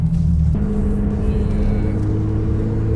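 A Subaru BRZ (ZD8) sports car's naturally aspirated engine and stock exhaust drone steadily at close range, the tone shifting slightly as the engine changes pitch.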